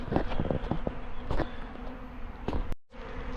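Honeybees fan their wings at a hive entrance after a shake-out of a colony with a failed queen, making a steady, close insect buzz with a few soft knocks and movements mixed in.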